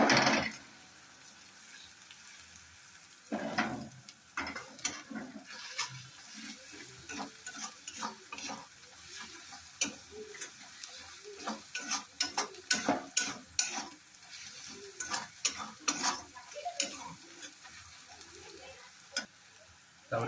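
Vegetables with garam masala are stirred in a pan, a soft background sizzle broken by repeated close scraping and clinking strokes of a spoon, irregular and fairly faint.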